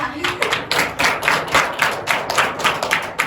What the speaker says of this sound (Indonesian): Tepuk tangan untuk Diva